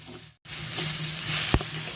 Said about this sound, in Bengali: প্রথমে আমি মুগের ডালটাকে ভেজে নেব